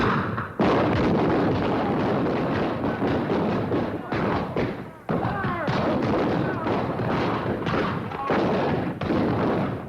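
Battle gunfire and artillery attack, a dense, continuous roar of shots, thuds and explosions filling the scene loudly from start to finish, with a brief lull partway through.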